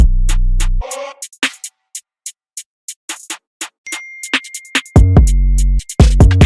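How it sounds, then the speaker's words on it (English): Long booming 808 bass notes ring out with punchy kick drum hits, framed by crisp ticking percussion in a steady beat, loud and close, in an FL Studio beat. "The 808 and the kick together, they go hard."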